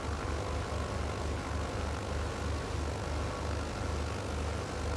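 Steady, loud propeller aircraft engine drone of a starboard engine running in Microsoft Flight Simulator, a continuous throbbing hum with no voices over it.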